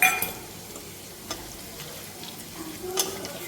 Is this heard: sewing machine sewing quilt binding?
no